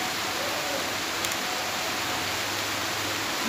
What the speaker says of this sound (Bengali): এই যে বৃষ্টিটা শুরু হয়েছে, হাওয়াও দিচ্ছে